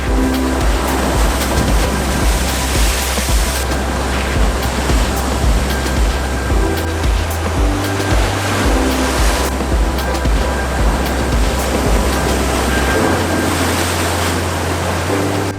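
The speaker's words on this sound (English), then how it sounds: "This is essentially like a secret beach right here. I mean, it's kind of like an isolated little beach." Waves wash continuously over a small isolated sea cove beach at Dana Point, a dense close rushing roar with a steady low rumble and no talk.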